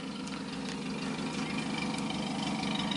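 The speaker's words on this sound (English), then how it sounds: "Y'all hear that Hemi?" A Hemi V8 in a yellow car idles steadily and close by, a continuous low rumble with a faint rhythmic pulse and no speech over it.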